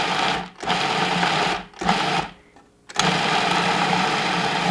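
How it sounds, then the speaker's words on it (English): Food processor pulsing a nut butter mixture, a loud grinding motor whine in several bursts separated by brief pauses, with no talking. "Start pulsing. Just pulse it a few times to get it mixed up."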